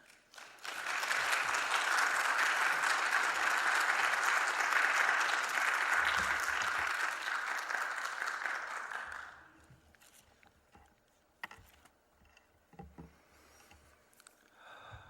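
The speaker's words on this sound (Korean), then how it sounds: "우리 뜨거운 박수로 환영해 주시기 바랍니다" A church congregation at a Wednesday service claps warmly to welcome a missionary, a dense, even roll of many hands lasting several seconds, then thinning to scattered claps, footsteps and small room noises.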